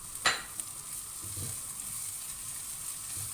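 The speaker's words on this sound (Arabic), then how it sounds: "هنحط الفلفل كده ونقلبه شويه" Bell peppers and onion frying in a pan, a soft steady sizzle with a couple of brief scrapes of stirring near the start, no talk.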